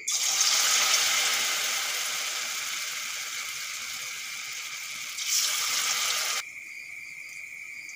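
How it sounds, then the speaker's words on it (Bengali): Potato pakoras deep-fry in hot oil, giving a steady, loud hiss that continues for several seconds. Near the end it drops to a quieter sizzle. "তেল গরম হয়ে গেছে, এখন আমি পকোড়াগুলো ভেজে নেব"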